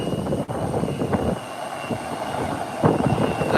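An American airliner rolls along the runway at Howard Hamilton International Airport in the Turks and Caicos Islands, a steady loud jet roar with wind buffeting the microphone.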